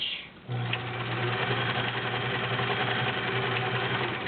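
A vintage Kenmore model 1703 cam sewing machine starts up and stitches continuously, giving a close, even motor hum with a rapid mechanical rattle that holds steady to the end.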